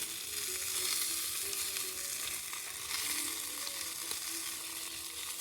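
Breakfast sausage fries in a pan at a provincial park campsite, giving a constant crackling sizzle with occasional pops. It stays moderately close and even throughout, with no voices.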